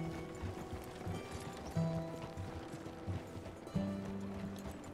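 Horse hooves clip-clopping at a steady gallop in the Red Dead Redemption 2 video game, rhythmic thudding beats up close with a faint rumble beneath.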